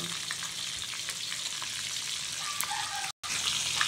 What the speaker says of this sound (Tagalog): Piniprito na.